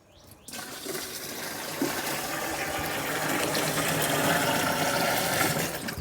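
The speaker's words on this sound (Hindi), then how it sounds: "सबसे पहले तो हम आधा जर्किन पहले पानी भरेंगे" Water gushing into a plastic jerrycan for mixing a herbicide spray in a bean field, a steady, loud, continuous rush that starts abruptly and keeps going.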